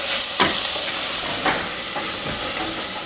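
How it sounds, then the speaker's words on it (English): Onions frying in a pan with ginger and jalapenos for vegan chana dal: a steady, close sizzle and hiss with a few sharp stirring scrapes, no talking. "I'm going to add my ginger and jalapenos in here. And I'm going to let the onion cook up."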